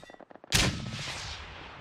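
A mortar fires in the video game PUBG: one sharp, loud blast boom that rings out and slowly fades, after a brief stretch of faint low thumps.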